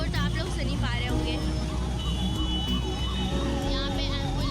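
An ambulance siren wails with a rising and falling tone through a traffic jam, set against a dense bed of idling engines, horns and crowd babble.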